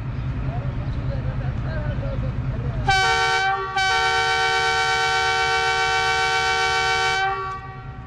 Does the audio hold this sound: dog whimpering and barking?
no